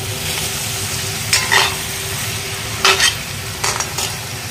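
Duck meat and chopped onion fry in hot oil with a constant sizzle, broken by three or four short scraping stirs.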